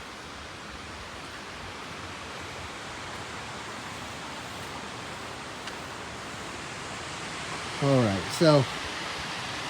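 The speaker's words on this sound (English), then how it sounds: "And oh, we have a full-on waterfall down here." Constant broadband roar of a waterfall at Old Mill Park in Roswell, Georgia, a steady rushing wash throughout, with someone briefly speaking near the end.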